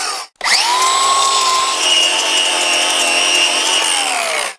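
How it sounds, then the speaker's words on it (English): A grinder scuffs a tire sidewall to prepare it for an emergency patch on the trail, starting with a brief spin-up and then holding a loud, close, steady abrasive whine for several seconds. "For time's sake, today we're going to actually use a grinder."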